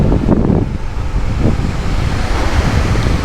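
Steady roaring rush of a tall roadside waterfall along Kennon Road on the way to Baguio City, a continuous broadband wash with wind buffeting the microphone, constant and close throughout.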